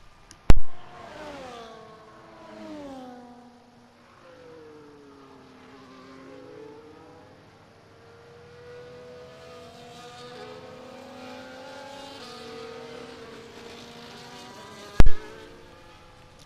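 F1 race car in the F1 24 video game at Monaco, its engine note rising and falling through gear changes over a steady whine, with sharp clicks near the start and end.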